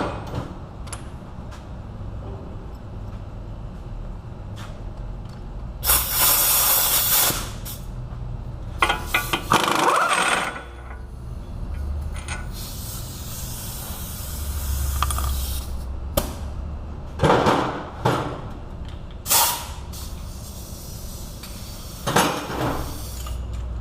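Ratcheting and clanking metal as a 32 mm front axle nut is worked off a Dodge Caliber, with bursts of wrench clicks and tool knocks over a steady garage hum, fairly close and loud.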